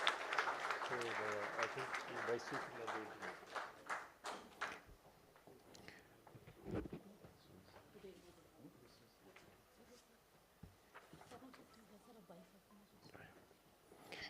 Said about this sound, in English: Please join a big round of applause for our dignitaries on the dais.